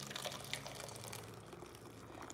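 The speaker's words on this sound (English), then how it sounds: "we're just gonna pour this back into our pan" Thick blended tomato basil soup is poured back into a cooking pan, giving a faint, steady liquid pour and splatter with a few soft drips, quiet and continuous throughout.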